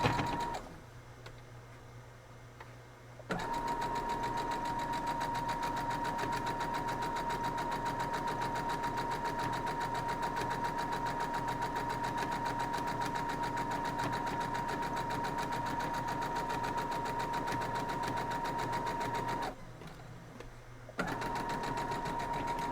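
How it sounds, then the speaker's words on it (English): A sewing machine runs one long steady stitching burst of about sixteen seconds, sewing a quarter-inch seam down a wild geese fancy flight quilt block, with a quiet pause before and after. "we're going to sew 1/4 inch down through there"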